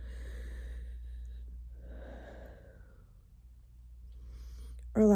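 A person catching their breath with heavy, drawn-out breaths and gasps, fairly close, with a sharp snort or exhale at the end.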